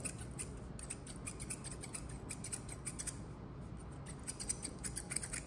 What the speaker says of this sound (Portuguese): Agora eu vou com a tesoura de desbaste, como vocês estão vendo, e vou encaixando.